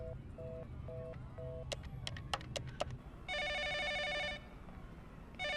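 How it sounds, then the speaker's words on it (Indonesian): A telephone ringing in a comedy film scene, with short repeated electronic tones followed by a long trilling ring burst and another starting at the end, set against background noise with no talk. "Ada telepon."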